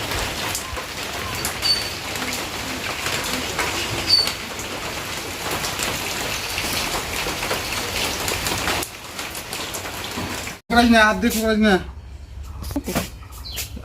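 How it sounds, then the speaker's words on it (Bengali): Steady, heavy rain pattering on surfaces throughout, with a brief voice speaking near the end and a faint bird chirp. "এদিকে আবার চলে এসেছে বৃষ্টি"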